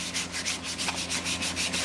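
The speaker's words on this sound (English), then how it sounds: "just do a light sanding," Rhythmic back-and-forth rasp of sandpaper lightly worked over a wooden axe handle being refinished, close and continuous, strokes evenly paced with no voices.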